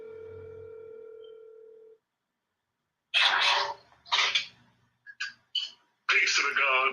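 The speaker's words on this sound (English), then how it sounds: "Let me see if he's gonna pick the phone up." An outgoing phone call rings on the line as a single steady ringback tone lasting about two seconds, which then cuts off. After a short silence, a voice speaks nearby in bursts.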